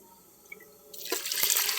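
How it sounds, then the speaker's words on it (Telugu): Water poured from a glass into fried rice in a pot for Telangana-style bagara rice, a short splashing pour that starts after a quiet moment and swells to a steady, close rush. "ఇప్పుడు వాటర్ పోసేసుకుందాము."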